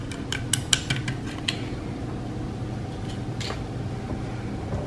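A utensil stirs pectinase into wine must, with several quick metallic clinks near the start and another around the middle over a low background rumble.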